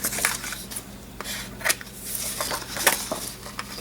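Scissors snipping through paper and washi tape at a craft table, a few close, sharp cuts scattered irregularly over several seconds amid light handling rustle.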